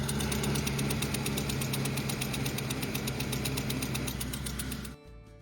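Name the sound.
truck engine knocking from overfilled engine oil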